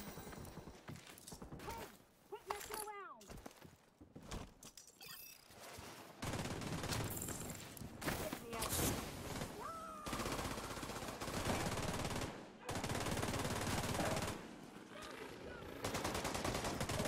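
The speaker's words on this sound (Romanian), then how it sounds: "Gloanțele astea explodează." Explosive-round gunfire in The Division 2, a shooter game, with dense bursts of shots and blasts through most of the stretch, some quieter gaps early on, under occasional voices.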